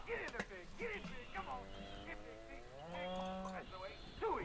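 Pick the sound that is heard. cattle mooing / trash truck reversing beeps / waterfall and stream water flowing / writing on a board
cattle mooing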